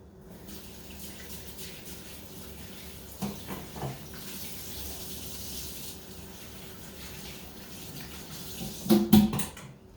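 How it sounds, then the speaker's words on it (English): A tap runs at a kitchen sink while hands are washed: a quiet, steady stream of water with faint splashing and a brief louder clatter near the end. "So let me wash my hands."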